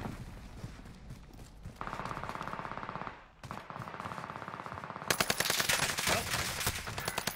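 Gunfire in a first-person shooter video game, loud dense bursts of rapid automatic shots with brief pauses, a steady rattling run in the middle and a heavier volley near the end.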